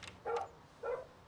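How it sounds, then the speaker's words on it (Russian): A dog in the video game Life is Strange gives two short, quiet barks about half a second apart, with no talking. "Собака."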